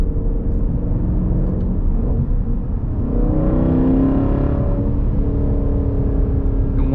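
A Jeep Grand Cherokee SRT V8 fitted with a Borla ATAK exhaust drones under load inside the cabin, a loud, deep rumble that swells into a rev around the middle before settling back.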